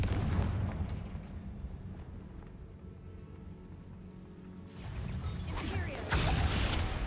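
A Confringo blast spell fires off in the Hogwarts Legacy video game, a booming, rumbling explosion that starts loud, eases into a low crackling roar, then swells again with heavier bursts near the end.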